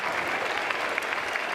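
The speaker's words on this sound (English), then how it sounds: "And nice round of applause from Morris." Applause from the stands at a North Carolina vs USC baseball game, a continuous broad roar of many hands clapping with a few sharper individual claps popping through, steady and fairly loud throughout.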